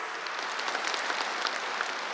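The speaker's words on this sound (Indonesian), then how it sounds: "buat tepuk tangan yang keras" A crowd claps loudly and continuously, a dense steady patter of hands with no gaps, heard at moderate distance and without talk over it.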